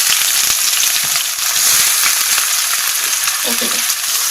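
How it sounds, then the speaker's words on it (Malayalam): Onion dropped into hot coconut oil for a squid roast, a loud close sizzle that fills the whole stretch, with a few stirring clicks and no talking. "അതിലേക്ക് നമുക്ക് നമ്മുടെ സവോള ഇട്ട് കൊടുക്കാം."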